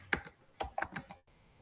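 A few quick keystrokes land on a computer keyboard while a line of JavaScript code is entered, a short cluster of crisp, close clicks that stops abruptly.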